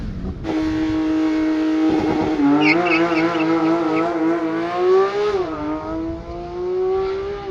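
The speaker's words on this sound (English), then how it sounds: "downshift, all the way to red line" Engine of a 2022 Porsche 911 GTS Cabriolet revving hard through a downshift and climbing toward redline, a loud, close, steadily rising engine tone with a brief dip and recovery partway through, heard alone with no talk.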